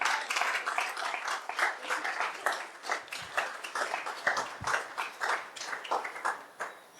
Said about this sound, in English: Give another round of applause for Felicia Dujon.